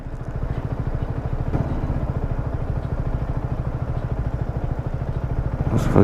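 A Yamaha MT 125 ABS motorcycle engine thrums steadily while riding, a loud close pulsing single-cylinder beat holding even speed, rising slightly at the end.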